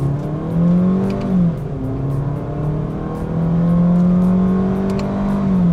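A Suzuki Fronx SGX hybrid car accelerates in manual mode, its engine tone climbing steadily with gear-shift dips and renewed rising whine, heard from inside the cabin with no talk.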